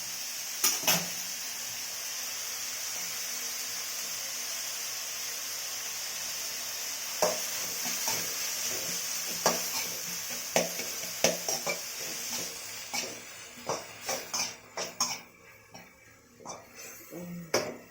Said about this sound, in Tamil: நல்லா வதக்கும் எண்ணெயிலே கொஞ்சம் நல்லா வதங்கட்டும்